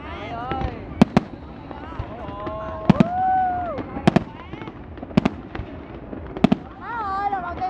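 Fireworks burst at the Festival Hoa Dalat 2015 in Dalat, Vietnam, with sharp, loud bangs coming roughly every second over a steady outdoor rumble, while excited spectators talk and exclaim close by.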